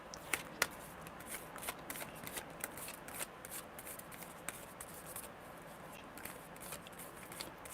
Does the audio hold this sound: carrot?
no